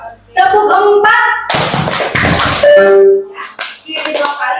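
Hands clapping and slapping in a rhythmic clapping game, with bursts of claps between stretches of sung or chanted voices, fairly loud and close.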